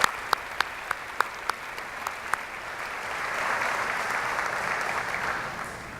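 A graduation ceremony crowd at SFHS in 2018 claps. It opens with a few sharp, separate claps and then swells into steady, moderately distant applause that holds to the end.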